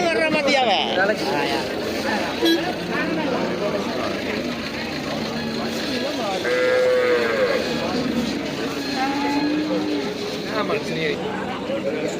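Buffaloes at a livestock cattle market low in several drawn-out calls, close and fairly loud, over a busy background of crowd chatter and people talking nearby.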